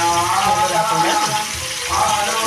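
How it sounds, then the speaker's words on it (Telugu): Fish pieces frying in hot oil for Andhra-style fish curry, giving a dense, continuous loud sizzle and crackle with a voice talking faintly underneath. "మనము చేపల్ని ఇలా వేసుకోవాలి నూనెలో కొంచెంసేపు ఫ్రై అవ్వాలండి"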